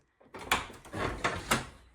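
A freshly fitted, unpainted door in a house being made into a rental swings open and shut smoothly, with soft thumps and brief latch clicks in quick succession, close by and without talk.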